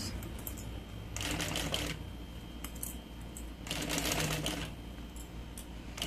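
A domestic sewing machine stitches synthetic material in two separate bursts of rapid, close mechanical clatter, each lasting about a second, with quieter room noise before, between and after them.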